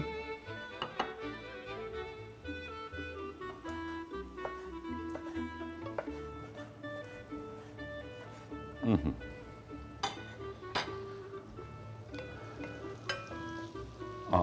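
Onions fry in a pan with a steady close sizzle, broken by several sharp clinks and scrapes of a utensil against the pan as they are stirred, and no talking is heard.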